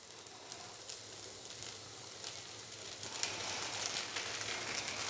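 Ketchup stirred into chicken filling in a hot pan gives a steady, soft sizzle with faint crackles and scraping that grows a little louder midway.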